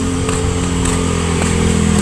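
Motorcycle engines crowd a waterfall parking area at Daranak Falls in Tanay, Rizal, a loud close idle and rev rumbling continuously with small throttle blips and no voices.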